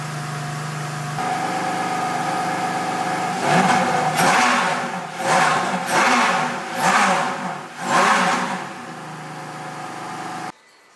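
Ferrari Enzo with its carbon bonnet up, cold started, settles into a loud rough idle, then four sharp rising-and-falling revs in quick succession before dropping back to idle and cutting off.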